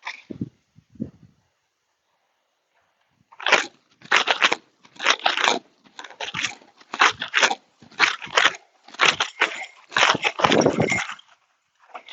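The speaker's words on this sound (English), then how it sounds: "Licking and chewing extensively." A horse licks and chews during its first saddle session, making rhythmic bursts of wet, crunchy mouth sounds in repeated close clusters, with a short pause near the start.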